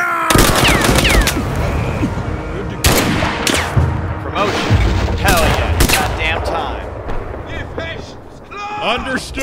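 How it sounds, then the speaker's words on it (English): Heavy gunfire in the Mud and Blood game during a D-Day battle: loud, sharp bursts and rattling automatic volleys come in irregular waves, with voices shouting in between. "One of those bastards just shot me!"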